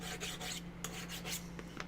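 Big knife cutting a steep bevel into foam material for a costume piece, heard as rasping, rubbing strokes with several sharper scrapes, close and alone.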